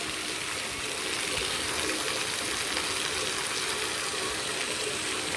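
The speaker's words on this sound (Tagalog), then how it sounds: "Yung waterfalls natin." Water pours from a waterfall in an unbroken, even rush of spray and flow, moderately quiet and constant with no talking.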